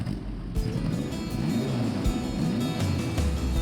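A racing car engine rumbles at close range at a classic motor show, a low throbbing idle with brief revs and sharp pops, no voices over it.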